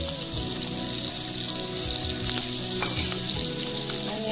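Green chili and onion sizzle in hot oil in a pan, a steady, dense crackling hiss with a few sharper pops, close up and without voices.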